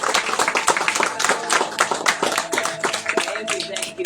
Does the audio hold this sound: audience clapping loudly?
yes